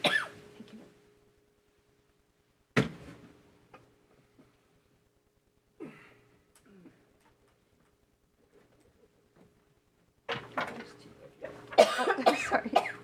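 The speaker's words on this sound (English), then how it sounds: "Didn't want to cough on" A few isolated short coughs break a quiet council meeting room, followed by faint rustling and then a brief stretch of people talking.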